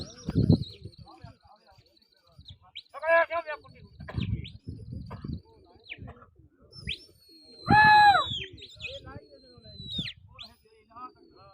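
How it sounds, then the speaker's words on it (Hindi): Pigeons at a competitive pigeon-flying contest: scattered bird chirps and cooing calls ring out between bursts of nearby talk and wind-like rustling, with louder warbling calls near the end. "कबूतर माशाल्लाह से वाला उठ रहे हैं।"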